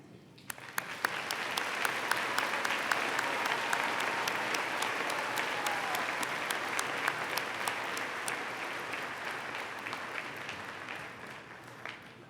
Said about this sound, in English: Let's applaud the parents, the spouses, the children, and the friends.